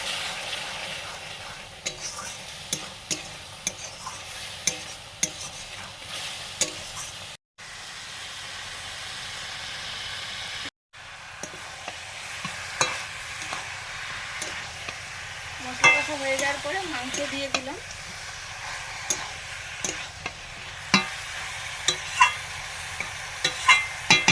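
Turmeric and chili paste mixed with water sizzling in a hot pan while it is stirred, with a steady frying hiss, scraping stir strokes and a louder burst of crackle partway through.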